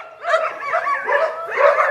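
Police dogs in training play together, giving a run of excited yips, whimpers and short barks close by, several overlapping calls in quick succession.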